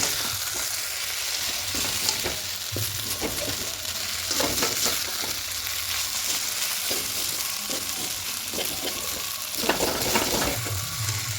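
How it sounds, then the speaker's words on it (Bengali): Dalia pulao is stirred in a hot pan, a constant close sizzle layered with repeated scraping and clinking strokes of a spoon against the metal. "এভাবে একটু নাড়াচাড়া করে নেব।"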